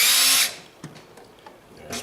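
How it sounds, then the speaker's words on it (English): A cordless drill bores a hole next to a tractor tire during a John Deere 1050 loader hydraulic conversion. A loud whirring burst is followed by quieter clicks and handling noise, and then the motor starts again briefly. "we'll pop the first hole through here, making sure we don't drill through the tire"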